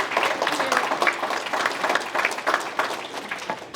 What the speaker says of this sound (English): Give her a round of applause, everybody.